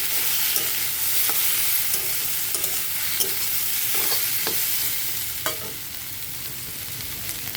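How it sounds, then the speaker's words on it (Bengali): Food frying in a pan with a little cumin powder is stirred, giving a steady close sizzle broken by sharp scraping taps of the utensil against the pan, with no one speaking. "আর অল্প জিরে গুঁড়ো দিয়ে দেবো। দিয়ে ভালো করে নেড়ে চেড়ে মিশিয়ে দেবো এটার সাথে।"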